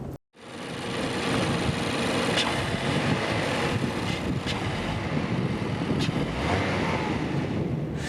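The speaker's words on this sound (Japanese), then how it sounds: "今となってはこの4気筒エンジン、今タコメーターで800回転ぐらい指しています。 この領域ですとすごく静かなんでね、エンジンの存在感薄いです。" From inside the cabin, a compact car's four-cylinder engine, a Mazda2 or Suzuki Swift, runs at about 800 rpm. It gives a steady, subdued hum blended with broadband cabin and wind noise, with no talk over it.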